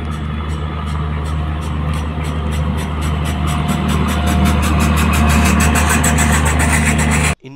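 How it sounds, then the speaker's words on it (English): A generator on the end coach of a passenger train runs with a steady, loud mechanical drone and a rapid regular pulsing beat that grows slightly stronger before cutting off abruptly at the end. "Here you basically you can see the generator, which is used at the end of the coaches, end coaches."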